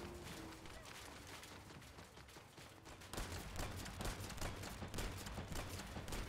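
Fast, repeated pistol shots crackle in quick succession in the sci-fi shooter The First Descendant, fairly quiet at first and then growing denser and louder midway.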